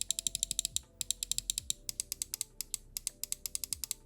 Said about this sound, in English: here you can hear the switches